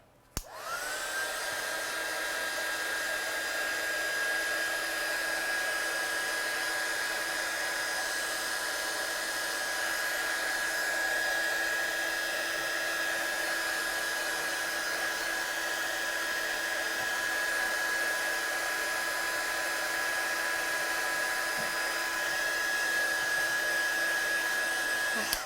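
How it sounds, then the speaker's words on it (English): Heat gun drying watercolour paint blows a steady, even whine that holds unbroken for about 25 seconds, fairly close and alone with no talk. "I'm just going to dry this one off quickly with my gun"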